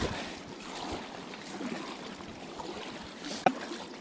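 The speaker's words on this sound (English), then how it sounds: "I'm trying to paddle straight into the wind." Steady rushing of wind and water around a packraft being paddled into the wind near a small island in New York City, with one short splash of a paddle stroke toward the end.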